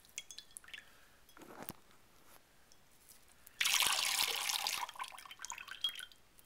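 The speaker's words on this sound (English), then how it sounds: "So we got all this beautiful water that just came out of the coconut." Water spilling from a coconut that has been whacked open, heard as scattered faint drips and small trickles, then a sudden louder splashing gush that tapers off into a few final drips.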